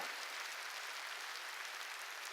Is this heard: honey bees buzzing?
no